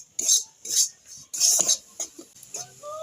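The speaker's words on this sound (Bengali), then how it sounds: "এবার আমি ভেজে নেব যাতে সুজির কাঁচা গন্ধটা চলে যায়" Dry semolina with a pinch of salt roasting in a pan, stirred with a utensil: a series of close, scraping strokes in uneven bursts, with a faint tonal clink near the end.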